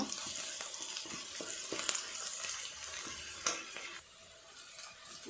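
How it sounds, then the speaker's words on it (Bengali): Duck meat goes into a pan of fried onions, a soft, steady frying sizzle with occasional stirring scrapes at moderate distance. "এবার মাংসটা দিয়ে দিব"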